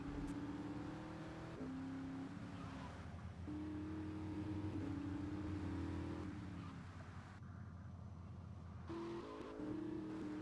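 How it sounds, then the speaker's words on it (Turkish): Car engine in GTA Vice City, revving steadily with repeated rising gear shifts and a brief drop-off, loud and continuous. "Araba çok hızlı."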